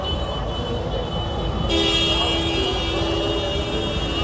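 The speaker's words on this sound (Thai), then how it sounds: "ก็จะบีบแตร" Car horns honk at a car mob protest in Thailand, a sustained toot starting partway through over a bed of traffic and engine noise, loud and steady to the end.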